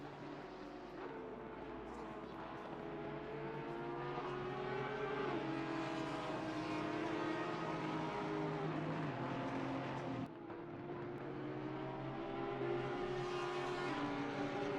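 Audi and Porsche GT race cars in Assetto Corsa Competizione at Donington Park scream past in a pack, overlapping engines rising and falling through gear changes, loud and continuous.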